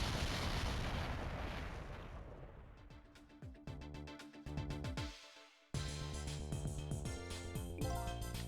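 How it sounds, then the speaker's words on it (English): Explosion in the video game Ghost Trick: Phantom Detective, a loud rumbling burst that decays over several seconds before being cut off by a sudden return of dense, tonal game music. "I think I heard an explosion somewhere"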